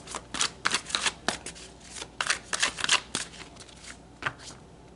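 Tarot cards being shuffled by hand in a series of crisp riffling bursts with short pauses between them, close and fairly loud, with no voices.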